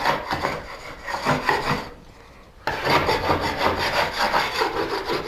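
Repeated rough scraping strokes of a rasp or file knocking rough edges off drywall, close and rhythmic, with a short pause in the middle.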